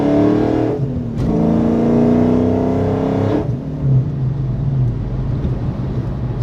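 A Whipple supercharged Dodge Challenger 392 with about 750 horsepower drops a gear and accelerates hard, its exhaust rising in a loud, close, climbing roar before easing into a lower rumble.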